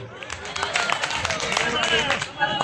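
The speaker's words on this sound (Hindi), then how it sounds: "आप सभी लोगों की तालियां बजती रहे" Crowd clapping at an outdoor political campaign rally in Seelampur, Delhi, a dense steady patter of many hands with a few voices calling out over it.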